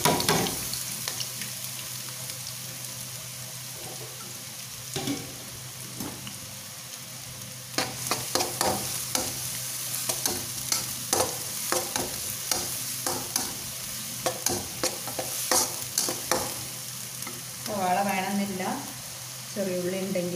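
Sliced onions hitting hot coconut oil and being stirred for a fish head curry, a bright sizzle with irregular spatula scrapes and knocks against the pan, a voice speaking briefly near the end.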